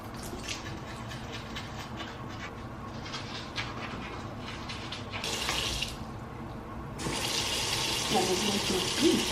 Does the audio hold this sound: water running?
yes